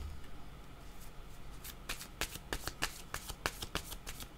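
A deck of cards is shuffled close by, with soft rustling followed by a rapid run of crisp riffling snaps, fairly quiet and with no speech.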